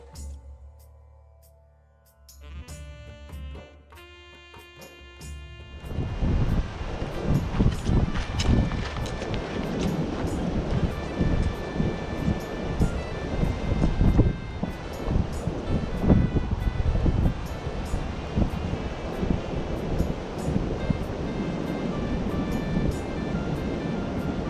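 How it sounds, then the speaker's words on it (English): Rushing river water beside a high Himalayan trekking trail near Dingboche, a broad, steady roar that rises after a few quiet seconds and holds loud and close, with wind buffeting the microphone. "Stopped next to the river to filter some water"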